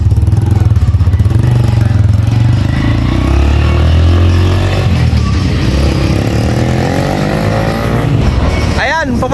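A restored KTM enduro motocross motorcycle engine runs loud and close with a steady low drone that swells and eases, while people talk over it.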